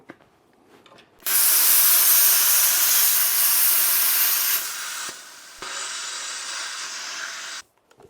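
A plasma cutter slices through metal on a first-time attempt, giving a loud, close, steady hissing roar that starts abruptly, dips briefly partway through, resumes, then cuts off sharply.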